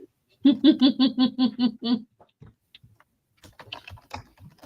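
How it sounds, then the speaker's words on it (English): Rapid bursts of keystrokes on a computer keyboard, about eight quick clustered taps in an even rhythm, then sparse clicks and soft laughter and voices at close range. "I'm typing in the right spot."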